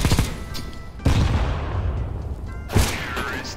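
Gunfire in a video game, sharp shots bursting out in three separate clusters over a steady background.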